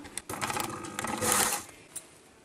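A sewing machine runs in short bursts while backstitching the front seam of a kimono jacket, a close, fast rattling stitch that speeds up, pauses briefly and stops.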